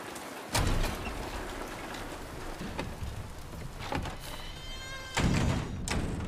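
Steady rain hiss in Silent Hill 2 Remake, a dense even wash filling the whole span, with a few sharp thuds and a brief louder burst near the end.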